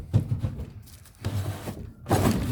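A drawer in an old shed workbench, part of a deceased estate lot, slides open with rough scraping and thunking bursts, a short pause in between, then a louder final scrape, close by with no talking.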